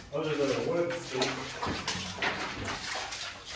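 Someone wades through water inside an 1880s mine, with close sloshing and splashing steps in an echoing space. A voice speaks over the start.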